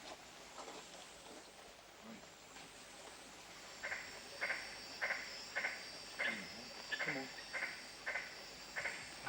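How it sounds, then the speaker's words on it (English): Magnificent tree frogs (Litoria splendida) call at night around rocks in the Kimberley, giving a faint, regular series of short repeated croaks against a soft bed of insect hiss. "huge green frogs emerge from cracks in the rocks. Latoria splendida, the magnificent tree frog."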